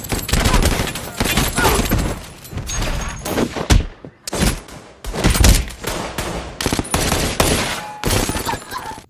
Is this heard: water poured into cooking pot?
no